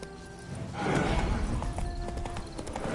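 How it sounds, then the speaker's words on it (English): Horse hooves clip-clop steadily alongside a whinny from a mount in The Witcher 3: Wild Hunt, the hoofbeats close and rhythmic with a brief neigh early on, all over a low ambient bed. "Bloody fine mount. Good stance, powerful rump, stable withers."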